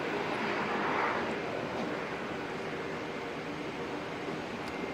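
Jetstar Airbus A321neo, brand new, departing Auckland Airport for Sydney: a steady, distant broadband jet roar that swells slightly near the start and then holds evenly throughout, with no talk.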